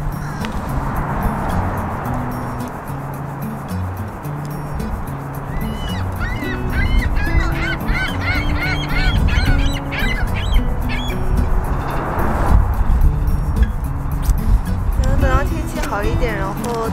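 Ducks and geese honk and quack at a park pond in Meadow Park, New York, with calls recurring through the middle and end over steady wind noise while people talk throughout.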